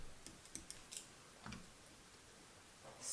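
Calculator keys clicked in a short series of light, quiet taps while numbers are entered for a circle-sector area problem, with pauses between presses and no talking.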